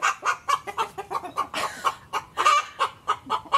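Hens in a backyard coop cluck and squabble over nesting boxes, a steady run of sharp, close clucks and squawks with no talking.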